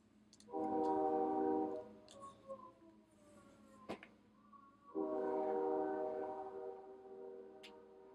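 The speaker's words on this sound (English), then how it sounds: "I'm waiting for the train." A passing train sounds its horn in two long, steady blasts separated by a quieter stretch with faint rumbling and ticks, heard at a distance and fairly faint.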